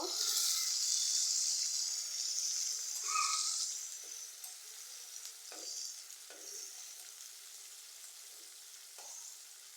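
Tomatoes with salt sizzling in oil in a pan as they are stirred for a pabda fish bhuna, a steady close frying hiss broken by soft scraping strokes of a spoon.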